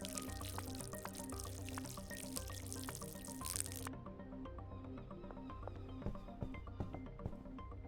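A watering can pouring water in the game Schedule I: a steady stream of splashing liquid that cuts to quieter dripping and light trickling, faint, over a soft background hum.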